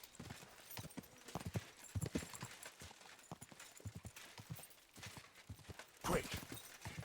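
A horse in the video game Kingdom Come: Deliverance 2 clops along with uneven hoofbeats at fairly close range, followed by a brief snort or whinny toward the end against a quiet background.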